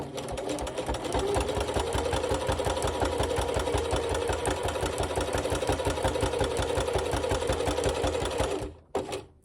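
A sewing machine runs steadily through a quilted potholder, its needle chattering in a fast, even rhythm close up for about nine seconds before the motor winds down and stops.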